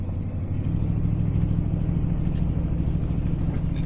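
A four-wheel-drive truck engine labors steadily up a hill while moving a 40-foot shipping container, a loud, continuous low rumble that holds constant throughout with no talking.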